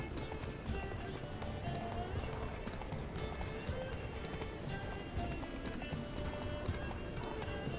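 Rapid clip-clop hoofbeats of a horse galloping in The Witcher 3 video game, steady and continuous under background game sound.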